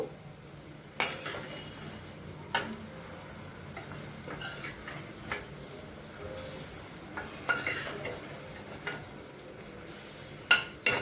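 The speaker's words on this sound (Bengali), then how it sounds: "ভেন্ডিগুলোই মোটামুটি 3-4 মিনিট মতো ভেজে নিলাম।" Sliced okra frying in oil in a kadai for a bhindi masala, a soft continuous sizzle broken by occasional scrapes and clinks as a spatula stirs the pan, close and fairly quiet with no talking.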